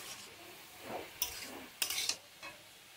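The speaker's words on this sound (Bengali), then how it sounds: "নুন দিয়ে ভালো করে নাড়িয়ে দেবো" Beetroot with added salt is stirred in a pan, with a few soft scrapes and brief clattering strokes of the spoon over a faint, quiet sizzle.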